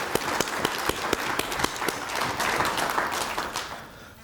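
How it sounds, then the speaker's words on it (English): An audience applauds the minister at the 2019 Unisa Founders Lecture, with sharp individual claps standing out over a dense, steady ovation that swells midway and then begins to taper off. "Can we give a round of applause to our"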